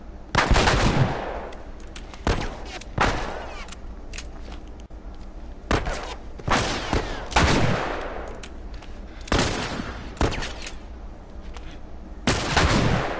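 Gunfire in The Last of Us video game: loud, close bursts of shots at irregular intervals, some rapid and some single, each with a booming tail, and no talking over them.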